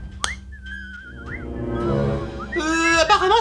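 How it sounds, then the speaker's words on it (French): Whistling in the Baldi's Basics video game: a sustained wavering whistled tone, then rising and sliding whistled notes that grow louder toward the end, heard alone without talk. "Qui c'est qui siffle?"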